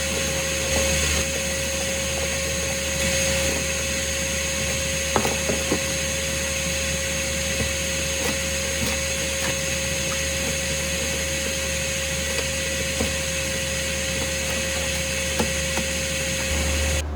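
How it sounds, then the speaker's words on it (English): A steady vacuum cleaner drone runs continuously while cleaning a Suzuki Samurai's floor, with occasional bumps and scrapes as the nozzle moves around, fairly loud and close throughout. "I'm gonna get my vacuum cleaner and clean all this out"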